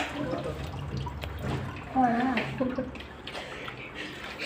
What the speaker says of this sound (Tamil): பாரு மோட்டர்லேருந்து தண்ணி வருது